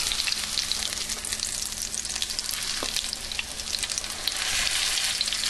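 Potato patties sizzle in a hot pan as a spatula presses them flat, a dense continuous frying crackle close by with a couple of soft scraping bumps.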